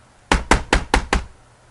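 A person knocks on a door to act out a moment in a story, five firm, evenly spaced raps close by, each one sharp and then quickly fading.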